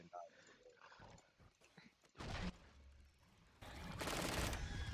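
Valorant gunfire in a match: a sudden heavy burst, then a sustained loud stretch of shots near the end, mixed with game noise and a player's voice chatter.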